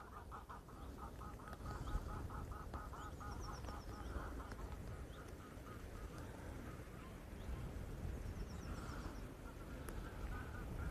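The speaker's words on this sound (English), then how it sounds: "This is where the ducks live." Ducks quacking in a wooded cycling area, a run of repeated quacks rising over steady outdoor noise and wind, then scattered calls later on, moderately close.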